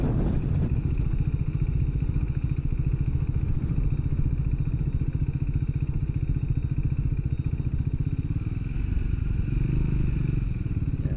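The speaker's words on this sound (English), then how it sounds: "you can hear the steepness measured by the engine braking I'm doing" A loud motorcycle engine braking downhill on a steep trail runs continuously up close, a steady throbbing rumble with slight shifts in pitch and no talking.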